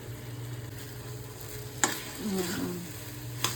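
Fried rice with Schezwan chutney stirred in a hot pan, a low steady sizzle with a couple of sharp spatula scrapes and clinks against the metal, close and quiet.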